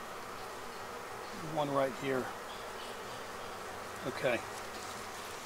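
Honey bees hum steadily around an open, busy hive during winter preparation, with a couple of louder buzzing passes as bees fly close to the microphone; a voice speaks briefly.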